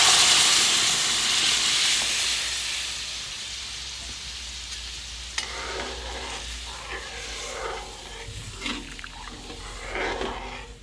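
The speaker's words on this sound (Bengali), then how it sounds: "এবার আমি সিদ্ধ করে রাখা ডালটা দিয়ে দিচ্ছি।" A loud steamy sizzle bursts as boiled black lentils are poured into a hot pan of spiced radish, then fades into softer bubbling and clinks of stirring.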